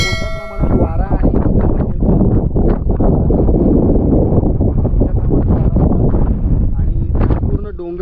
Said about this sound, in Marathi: या ठिकाणी तुम्हाला खूप मोठ्या प्रमाणात वारा